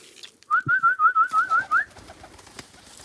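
At feeding time on a pigeon farm, one bird gives a close, rhythmic cooing run of about seven even pulses, followed by quieter rustling.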